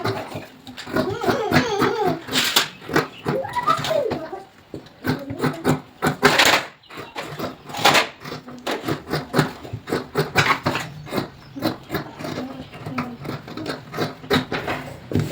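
Scissors snip through blouse fabric at a tailoring table, the short crisp cuts coming close and fairly loud in an uneven rhythm, with a brief pause partway through.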